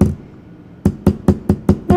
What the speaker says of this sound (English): So now you can hammer.